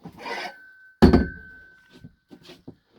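A tabletop in a 2019 Coachman Leprechaun RV being flipped up: a brief scraping rub, then one solid thunk with a short ringing tone, followed by a few faint light knocks.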